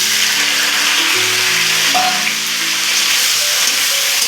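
Chopped onion dropped into hot oil with whole garam masala spices, bay leaf and cumin, sizzling and frying steadily with a dense, loud hiss throughout and a few faint clinks, no voices.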